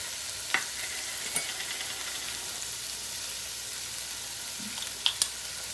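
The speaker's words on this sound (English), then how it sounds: "So I just want to cook this until that hamburger is all browned and the peppers and onions are starting to get tender." Hamburger meat with diced green pepper, onion and garlic frying in a pan over lowered heat, giving a steady, fairly faint sizzle with a few brief clicks of stirring.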